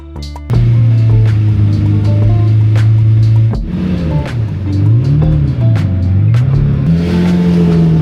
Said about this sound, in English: This V12 makes an absolutely crazy sound and it's absolutely a joy to listen to.